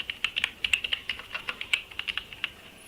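Fingers tap out an employee ID on a computer keyboard, a quick uneven run of crisp key clicks close by, alone without any talk.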